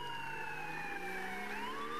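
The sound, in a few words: police siren in video game GTA 5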